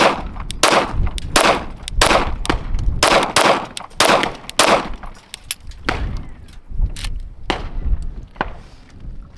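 A Glock 43X pistol fitted with a tungsten guide rod fires full metal jacket rounds in a fast string of loud, close, sharp shots, with short uneven gaps and a few spaced final shots, and no talking.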